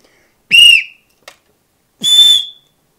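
An old-style referee whistle, higher pitched than modern ones, gives two shrill, loud blasts about a second and a half apart, each under a second long, with a brief faint click between them.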